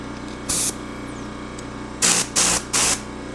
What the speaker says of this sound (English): I'm going to turn the air compressor back on.